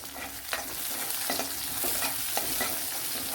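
Chopped green chili and garlic fry in hot oil in a pan for an egg masala curry. A constant sizzle runs throughout, broken by a few light scrapes of stirring, close up and with no voices.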